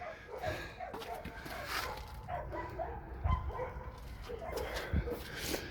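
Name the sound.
dogs barking at an animal shelter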